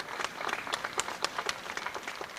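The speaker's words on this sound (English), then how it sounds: "Let's give him another clap." Audience applause at a law event in Kenya honoring the first female Attorney General, a steady patter of many hands clapping at moderate distance, with sharper individual claps standing out, continuous for a couple of seconds.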